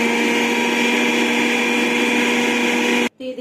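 A mixer grinder runs steadily, churning samosa dough with added oil: a loud, constant motorized whir with a stable hum that cuts off abruptly near the end, followed by a brief rattle.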